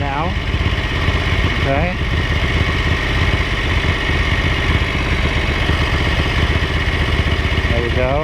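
A Ducati 900SS bevel-drive engine idles with a loud, steady throb and rises in brief throttle blips near the start and end, close by, with a short spoken word over it.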